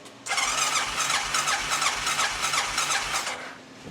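A Honda Rincon ATV with a failing solenoid cranks its engine, the starter turning over in a rapid rhythmic chug for about three and a half seconds without catching, close and loud.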